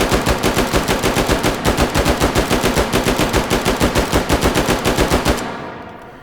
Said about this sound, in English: Let me show you the full auto real quick.